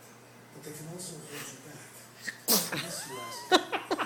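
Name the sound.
sneeze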